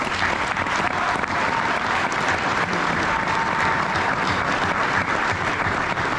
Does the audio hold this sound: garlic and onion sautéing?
no